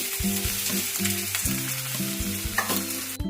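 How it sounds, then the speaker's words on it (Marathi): Finely chopped onion frying in hot oil in a pan, a loud, dense sizzle close by with repeated stirring scrapes of a utensil, no voices. "आपलं तेल तापलेलं आहे मस्तपैकी, तर आपण हा बारीक चिरलेला कांदा टाकूया।"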